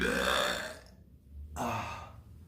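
A person in a tank top lets out two long, loud, throaty burps separated by a short pause, close and without any talking.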